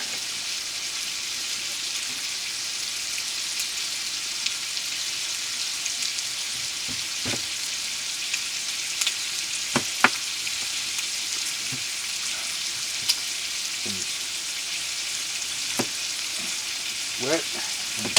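Bacon frying in a pan gives a steady, close crackling hiss for the whole stretch, broken by occasional sharper pops and small clinks.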